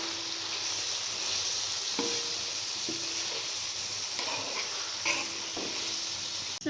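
Ground black pepper, cumin and dried coriander powders roasting in a pan for a tawa mutton liver dish, a continuous hiss with repeated scraping stirs of a spatula, close and steady, no speech.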